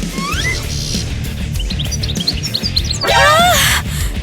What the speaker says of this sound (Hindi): क्या ये चिड़िया है?